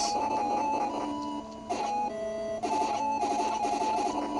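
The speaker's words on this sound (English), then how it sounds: "let's give this machine gun a try" Rapid chiptune machine-gun fire from the Western-themed shooter Gun Smoke sounds in repeated bright electronic bursts over steady looping game music, with a brief lull before the firing resumes and continues.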